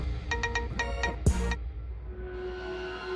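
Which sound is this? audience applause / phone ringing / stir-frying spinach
phone ringing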